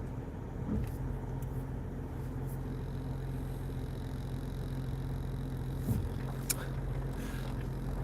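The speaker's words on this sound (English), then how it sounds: "Just gonna back the car down to the shop again" Car backing slowly down toward a shop, a low steady engine rumble close by with a couple of faint knocks and clicks.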